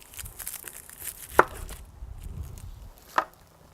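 Knife slicing through an onion on a cutting board, two crisp chops standing out amid softer scraping and peeling rustles, close and clear with no talking.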